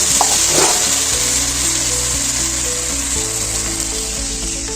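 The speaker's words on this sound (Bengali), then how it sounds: "এবারে আমি এতে জল ঢেলে দিচ্ছি।" Water is poured into a sizzling pan of fresh rohu fish curry with drumsticks, a loud close hiss and bubbling that holds steady throughout.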